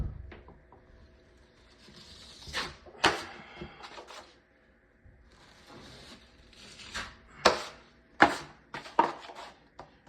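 A drywall knife scrapes joint compound during a skim coat, giving intermittent close scraping strokes and taps with quiet gaps between passes.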